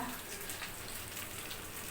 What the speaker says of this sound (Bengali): এখানে হচ্ছে এই যে মাছ ভাজা